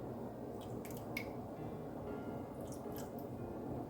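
Liquid dye for wool drips and splashes out of a jar in a few short, wet bursts over a quiet low hum, with no speech.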